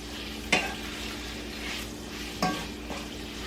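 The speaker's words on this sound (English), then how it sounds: "we're just sauteing them for them to get a little brown on the sides" Chicken pieces sautéing in a pan on high heat for a creamy chicken stroganoff, a steady close sizzle broken by two sharp stirring scrapes and a fainter third, with no talking.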